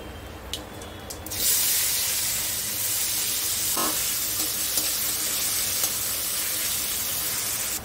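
Onions and whole garam masala frying in oil left over from fried eggplant, a loud steady sizzle and hiss that swells after a brief quieter start and continues without pause.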